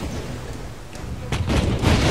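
Booming ship cannon blasts and crackling impacts in a Pirates of the Caribbean video game build up, dense and loud, after a quieter rumbling stretch with some background noise.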